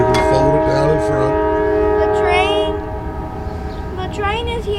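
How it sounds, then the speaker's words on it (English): A train rolls past at a demolition derby preparation site in Cumberland, Maryland, its horn blaring in loud sustained blasts over the steady rumble of the rail cars, with a voice speaking faintly underneath. "The train is here."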